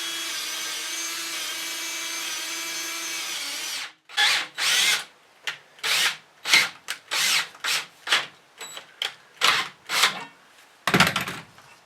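Power tool driving a bolt through a half-inch hole during a school bus motor home conversion: a steady whine, then a rapid series of short grinding bursts with brief pauses between them, close and fairly loud.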